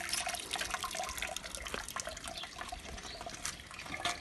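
Mulberry juice drips and trickles from a cloth-wrapped pulp pressed under a Kadıoğlu 20 jack press. A steady, close liquid patter runs with scattered drip splashes throughout, and no talk.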